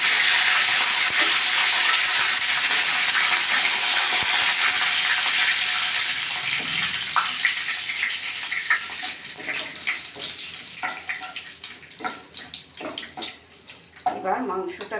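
Mustard seeds and curry leaves sizzle in hot oil while cooking curry leaf chicken, a steady broadband hiss that later breaks into crackling pops and spits, close and loud, with no voices.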